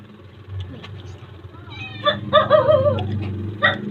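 A cat meows indoors in a few drawn-out, rising calls over a low steady background hum, fairly close and clear with no talking.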